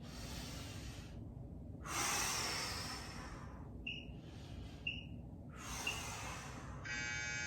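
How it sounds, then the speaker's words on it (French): Exercise breathing during a fitness workout, heard as long breathy inhales and exhales in alternating bursts over background music, close and steady, with no speech. "On inspire, on expire quand on remonte."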